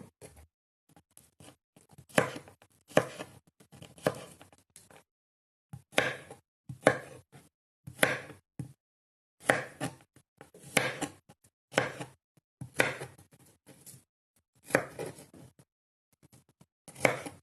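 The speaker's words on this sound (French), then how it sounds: "Alors, je les coupe pas trop petit parce que j'aurais pu le râper aussi." A knife chops ingredients on a cutting board in rapid bursts of close, sharp taps, separated by short pauses of near silence.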